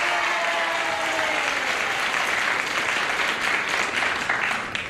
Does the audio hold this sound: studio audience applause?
yes